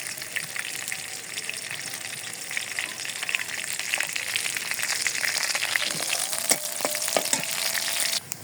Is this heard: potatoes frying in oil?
yes